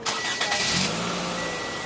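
A car engine starting: a brief starter crank, then the engine catches and settles into a steady idle, heard close with no talk.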